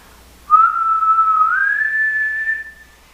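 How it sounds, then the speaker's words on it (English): A single loud, sustained human whistle starts low, holds, then slides up to a higher pitch and sustains before stopping. "you can try to whistle from a low pitch to a high pitch."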